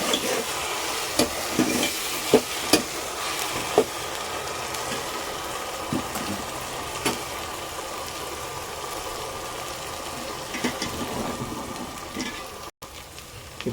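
Ginger garlic paste and turmeric fry and get stirred in a pan for green chicken, a steady close sizzle with recurring spatula scrapes and taps against the pan.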